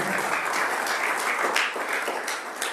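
Steady applause from a church congregation filling a worship service, dense continuous clapping that holds evenly for a few seconds with a few louder bursts.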